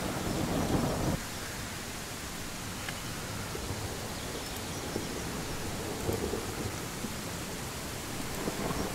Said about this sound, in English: Well, it does seem like this storm was not really that bad.